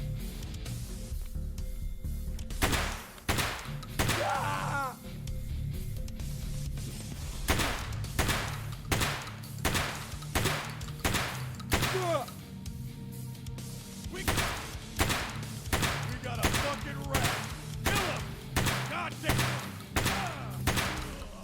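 Heavy .50 BMG rounds striking Coraza body armor in Escape from Tarkov, with sharp shots repeating roughly once a second over a steady background hum.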